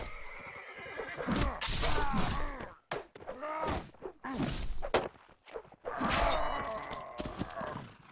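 In a Knights of Malta versus NERD match in a medieval combat video game, a horse lets out repeated loud, strained neighs and whinnies while hooves and hits clatter around it.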